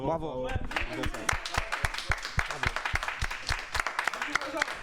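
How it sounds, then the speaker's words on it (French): People applauding themselves at a French esports gaming event: a loud burst of hand clapping that stays close and rhythmic while a voice talks over it. "je pense qu'on peut même s'applaudir"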